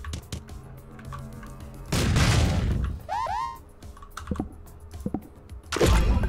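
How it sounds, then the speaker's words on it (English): An exploding barrel blows up in the Streets of Rogue video game with a loud burst of noise midway, surrounded by clicking keys, short game effects and a rising electronic chirp, then another blast near the end. "Can you, like, blow something up over there? Hit the exploding barrel?"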